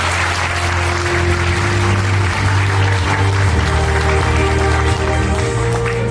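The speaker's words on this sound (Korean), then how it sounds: "한 박수 부탁드리겠습니다." An audience at a company year-end award ceremony applauds continuously and loudly, dense clapping sustained across the whole stretch over a low steady hum from the hall.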